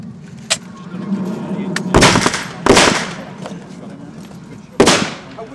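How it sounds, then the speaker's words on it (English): Outdoor gunfire heard from a distance: three or four sharp, separate reports come at irregular intervals, each with a short echo, over steady low background rumble. No one speaks. "Who's firing?"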